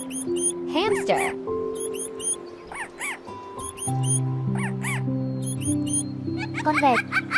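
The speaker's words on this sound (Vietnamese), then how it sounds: "Chuột hamster." A hamster gives rapid, high, chirpy squeaks in repeated clusters over continuous background music.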